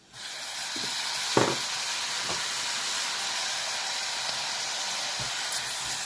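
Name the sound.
chopped tomatoes added to hot pan, sizzling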